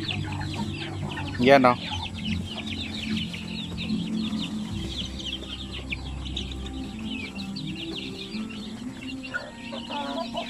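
Young Basilan chicks, under a month old and raised without a hen or incubator, cluck and peep softly and continuously in a farm setting, with a brief louder burst near the start and a person speaking in the background.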